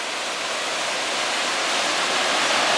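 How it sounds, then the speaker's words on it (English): Rushing river water pouring down the Middle Fork along the John Muir Trail, a steady, loud, broadband roar close by with no letup throughout. "Judging by the amount of water coming down the middle fork"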